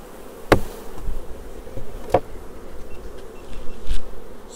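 Honeybees at an open beehive during a varroa mite check, a close, steady buzzing hum with a few sharp knocks from the hive equipment.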